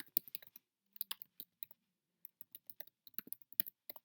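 Computer keyboard keys tapped in quick, irregular bursts of close, crisp clicks with brief pauses, a quiet desk setting with no talking.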